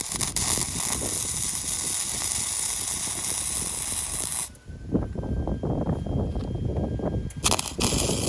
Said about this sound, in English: It's straight, so I'm going to just tack it here.